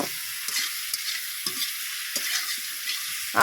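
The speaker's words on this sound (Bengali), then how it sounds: "আলুগুলো দিয়ে মশলার সঙ্গে খুব সুন্দর করে কষিয়ে নেব" Potatoes sautéing with spice masala in a pan: a thin, high sizzle under repeated soft scraping stirs, near and moderately loud, ending with a slightly louder scrape.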